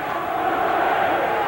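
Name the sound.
boxing crowd cheering in support of Storey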